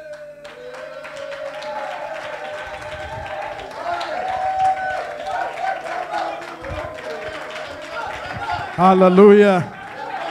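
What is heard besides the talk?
congregation clapping in church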